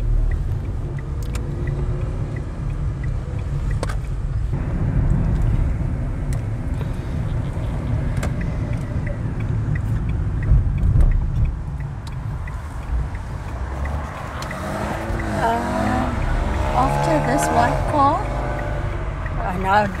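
A Toyota car rolls past on a street in Umhlanga, its steady low engine and road rumble running throughout beneath continuous conversation.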